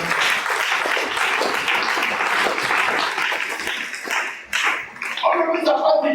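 A church congregation applauding during a fasting prayer service, a dense burst of clapping that fades, followed by a voice speaking at the end.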